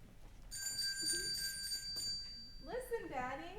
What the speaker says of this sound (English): Hear the bell?